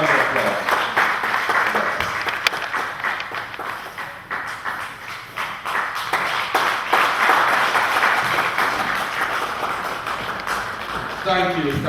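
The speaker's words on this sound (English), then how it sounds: "Let us give him a very," Sustained applause from a fundraiser dinner audience for the Children of God Association Sierra Leone, a dense, steady wash of clapping lasting the whole stretch, with voices mixed in.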